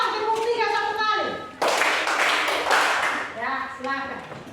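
Children in a classroom clap hands together in a group rhythm of three claps then one, a brief dense burst of clapping amid children's voices and chatter before and after.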